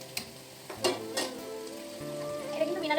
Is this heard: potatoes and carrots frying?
yes